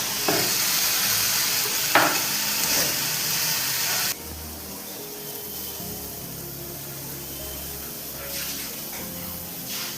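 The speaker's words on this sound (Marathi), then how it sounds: "फास्ट वाटाणे कसे तडतड तडतड आले." Green peas crackling as they fry with garlic in a pan over high heat, with a loud crackling sizzle and a few sharp pops. Partway through it drops to a much quieter, steadier hiss, and no one talks.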